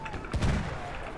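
Gunfire in the video game Battlefield 1 cracks out as a short burst of shots, fairly faint, over a low background din.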